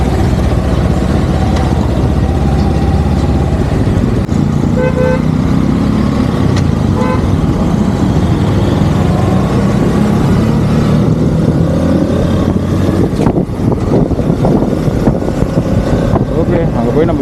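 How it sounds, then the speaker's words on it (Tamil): Heavy road traffic in Chennai is heard from a Kawasaki Ninja 300 motorcycle, with a constant engine and road rumble, short car horn toots and passing vehicles, all close and loud. A rider talks over it. "சரியான டிராஃபிக்கு."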